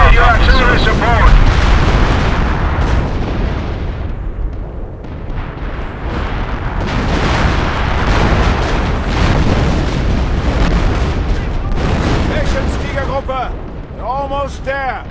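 Heavy artillery explosions in a Company of Heroes World War II battle, booming blasts rolling almost continuously, loud and close, with shouted voices mixed in.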